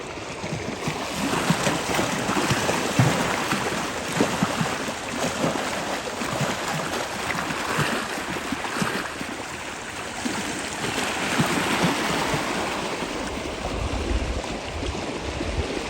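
Turning tide on the River Great Ouse at Kings Lynn, heard as a broad, continuous roar of rushing water that stays loud and steady throughout, with no voices over it.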